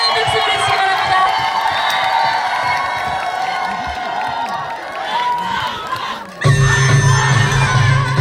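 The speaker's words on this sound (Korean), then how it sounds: "뜨거운 박수 보내주시기 바랍니다" Outdoor crowd at the Hoamsa temple cultural festival cheers, shouts and claps as a trot singer is called to the stage, a dense continuous roar before amplified music and voices cut in near the end.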